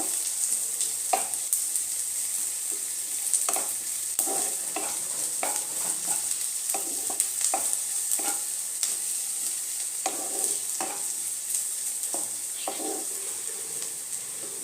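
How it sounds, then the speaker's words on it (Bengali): Close, continuous frying sizzle with frequent scraping and tapping as a spatula stirs chopped chili, garlic and ginger in the pan, no speech. "আর একটু 1 মিনিটের মতো একটু ভাজাভাজি করবো।"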